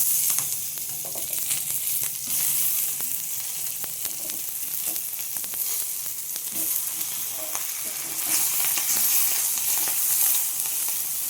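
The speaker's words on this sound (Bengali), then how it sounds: "এই বেগুনটাকে খুব ভালোভাবে ভেজে নেব" Brinjal frying in a pan for a gram-leaf dish, giving a steady, close hiss of hot oil with scattered crackles and faint stirring throughout.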